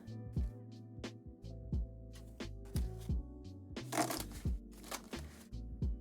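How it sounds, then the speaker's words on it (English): Tarot cards are shuffled in quick riffling bursts over soft background music with low plucked notes. "we're gonna shuffle these up really well."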